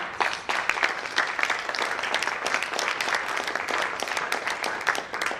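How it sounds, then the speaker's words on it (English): Audience applause at a talk on HR and organizational innovation, a dense, steady wash of many hands clapping that carries on loudly and evenly without a break. "That round of applause is actually for me."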